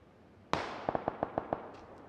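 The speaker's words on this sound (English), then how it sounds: "They're shooting at other people though" Gunfire in a battle royale video game: one sharp shot followed by a quick series of six lighter cracks in even rhythm, moderately distant and fairly faint, with no talking.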